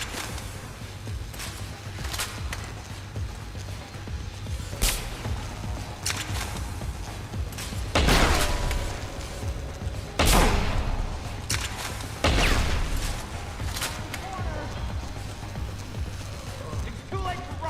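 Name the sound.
gunshots in video game Deus Ex: Human Revolution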